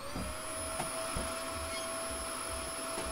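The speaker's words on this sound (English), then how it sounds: "Get in my vacuum!" Steady loud suction roar of a vacuum cleaner sucking up a spider in the video game Kill It With Fire, continuous for a few seconds with a high whine and faint clunks underneath.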